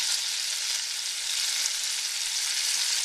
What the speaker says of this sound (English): I'm gonna go ahead and put my cube steak in to fry up right there